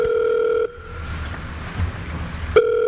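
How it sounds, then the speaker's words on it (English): Old-fashioned telephone ringing in a radio drama, a steady electric ring that stops, leaves a pause of room noise, then starts again. "Answer the phone."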